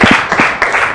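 A short burst of clapping from children and adults at a school reading event, a few loud, close claps over a brief moment, fairly sparse rather than a full ovation.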